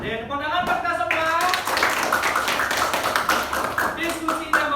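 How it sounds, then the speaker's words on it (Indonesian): Students in a classroom clap their hands together, a brisk patter of claps mixed with a voice talking over them, close and moderately loud throughout. "Tepuk tangan buat kita semua."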